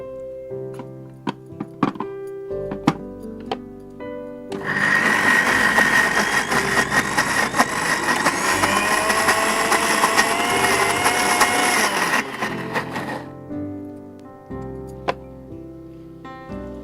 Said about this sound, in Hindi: हमें इसे या तो हैंड ब्लेंडर से या मिक्सी के जार में डालकर आप इसे पीस लीजिए।